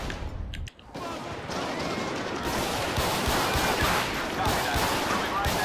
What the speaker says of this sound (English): Dispatch, send a unit. We got a shooting going down.